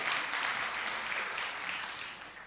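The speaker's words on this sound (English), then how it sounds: "You can clap for that." A theatre audience at an author presentation gives steady, dense applause that fills the room evenly and fades slightly toward the end.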